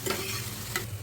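Thinly sliced onions sizzle in hot oil in a home kitchen pan, giving a steady close frying hiss with a couple of brief stirring scrapes and no voices.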